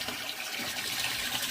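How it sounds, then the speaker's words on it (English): Water pours from a PVC standpipe back into an aquaponics tank built from recycled materials, a soft continuous splashing hiss, fairly quiet and steady, with no voices. "is putting water back into the tank,"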